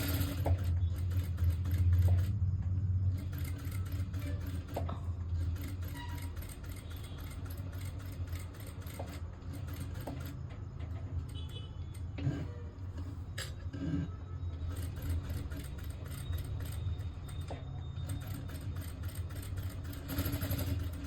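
A sewing machine stitches slowly along the edge of a blouse, producing a continuous, close mechanical whir and clatter with brief pauses and small changes in pace.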